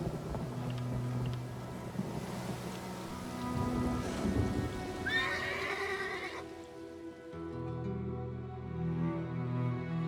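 In Elder Scrolls Online, a horse neighs and snorts amid steady rain and rumbling thunder, with a low droning ambience throughout.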